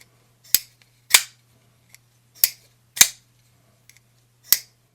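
A Penrose Otarida folding knife with a titanium back spacer is flicked open and closed, producing five crisp, close metallic snaps spaced about a second apart over a faint low hum, with soft clicks between them.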